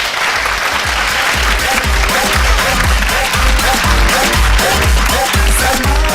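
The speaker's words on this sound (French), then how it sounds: "Applaudissements pour eux." A studio audience at a television show applauds loudly and close, dense clapping with a rhythmic beat underneath sustained throughout, with some voices mixed in.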